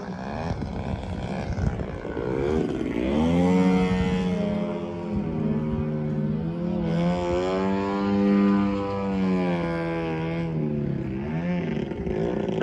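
An Extreme Flight Laser model airplane flies by at an RC flying event, its propeller buzzing and rising to a loud whining roar overhead, then swelling again as it passes.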